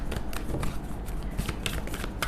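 Tarot cards are shuffled by hand in a brief, close burst of soft riffling and flicking, with no talking.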